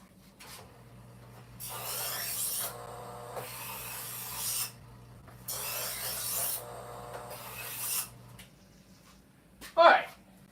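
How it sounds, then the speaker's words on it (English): A knife for cleaning freshly caught halibut is sharpened in long rasping strokes, two sustained scraping passes with a pause between, followed by a brief knock near the end. "All right, let's get it. Let's take our knife and let's sharpen it."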